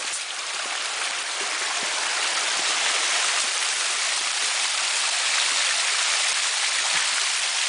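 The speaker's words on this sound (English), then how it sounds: "is running water on this side as well. Right here. All going, both of them, emptying into the creek here" Cascading waterfalls emptying into a creek, a dense, continuous rush of running water, close and steady throughout with no voices.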